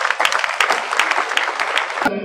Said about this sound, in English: I think Professor Udoka deserves another round of applause